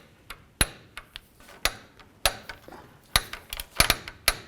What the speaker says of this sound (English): Go ahead and torque all these bolts to 30 foot-pounds.